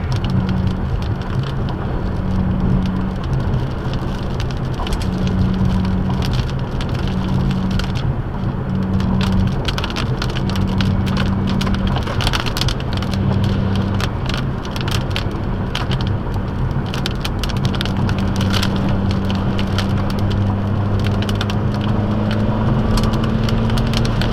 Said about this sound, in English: That is some massively moving fast rain curtain in front of me.